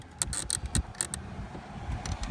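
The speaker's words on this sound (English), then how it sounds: "we'll use the flat blade screwdriver for that. We'll just kind of get under here and carefully pry up" Flat-blade screwdriver prying up the plastic-clipped interior door panel of a 2013 Ford F-150, giving a few short creaks and clicks of fasteners in close, quiet bursts.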